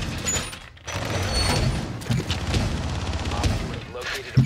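CZ-75 pistol fire in Rainbow Six, a dense run of loud shots with other in-game noise, cut by one brief pause and ending on a sharper report; a voice talks underneath.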